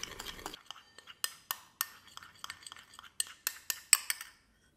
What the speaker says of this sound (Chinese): 碗里倒入 espresso 和可可粉， 加入常温水混合融化